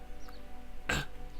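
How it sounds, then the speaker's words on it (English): A single short, sharp cough, or throat clearing, bursts out near the end of a quiet stretch over a low steady hum, with no talk around it. "Cough!"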